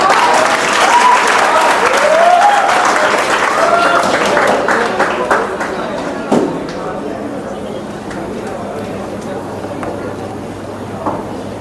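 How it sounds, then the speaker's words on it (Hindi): Audience applause at a gathering celebrating students' selection results, dense loud clapping that fills the first half and then thins and fades into scattered claps. "तालियां तालियां तालियां।"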